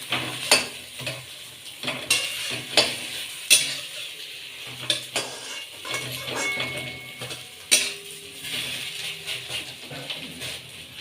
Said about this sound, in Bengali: রুটিগুলো এবার দিয়ে আমি তাড়াতাড়ি টোস্ট বানিয়ে নেব